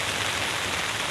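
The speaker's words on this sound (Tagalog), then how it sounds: "At ang lakas ng ulan dito sa amin mga pare" Heavy rain pours down in a dense, steady hiss of drops striking surfaces, loud and close and unbroken, with no voices.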